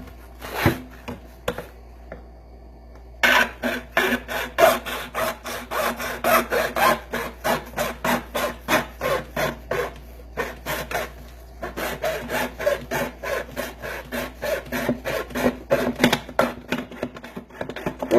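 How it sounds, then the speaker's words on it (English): A saw blade held flat rasps through a plastic bucket along a marked line in quick, steady back-and-forth strokes that run close and continuous after a brief pause at the start. "I tend to keep that blade as flat as I can on that bucket and run it to the"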